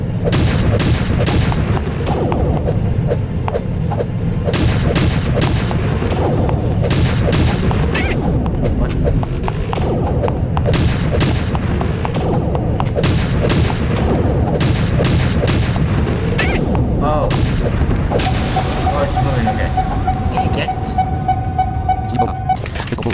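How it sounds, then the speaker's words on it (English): Laser weapons firing in the video game BK2, a run of loud booming blasts in steady succession over a dense game soundtrack, with a sustained high electronic tone near the end. "They will fire a laser."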